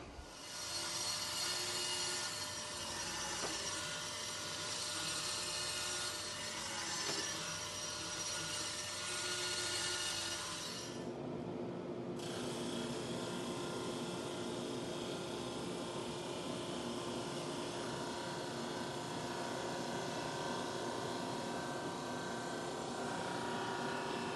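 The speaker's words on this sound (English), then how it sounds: "So let's go to the bandsaw." A bandsaw cuts through wood in a workshop during a magnetic knife holder build, running as a steady loud whine for about ten seconds, then dropping to a lower, quieter hum with no talk.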